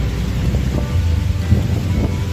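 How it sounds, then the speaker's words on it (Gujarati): Rain begins falling outdoors with a dense, steady hiss and low rumbling, close and continuous, with no talking. "વરસાદ ચાલુ થઈ ગયો"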